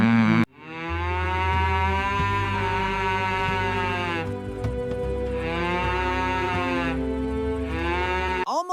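A cartoon dairy cow gives two long, drawn-out moos, loud and close, with a short break between them and a low droning hum underneath.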